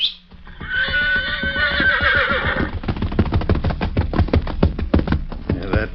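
A horse neighs loudly and close in a 1940s Western radio drama, a long shrill whinny followed by rapid snorting and clip-clop-like pulses that continue to the end.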